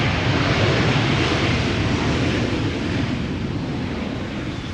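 An airliner landing at Amsterdam Schiphol roars loudly and steadily with its thrust reversers applied, a broad, rushing engine noise with wind buffeting that fades slightly toward the end.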